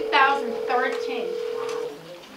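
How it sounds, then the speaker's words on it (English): A phone rings during a studio talk show interview, a steady electronic tone held for nearly two seconds with a person speaking over it. "Oh, is that phone?"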